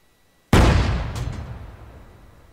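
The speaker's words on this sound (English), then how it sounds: "the artillery field gun with artillery computer and the AT gun" A single loud, close artillery field gun blast from the Arma 3 IFA3 mod, a sharp boom whose rumbling echo decays slowly over two seconds, with no voices.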